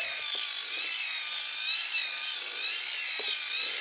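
A homemade hand-crank generator built from a gear head motor, charging a battery bank, gives a steady whirring, grinding drone with a faint rhythmic rub from each turn of the crank, alone and close.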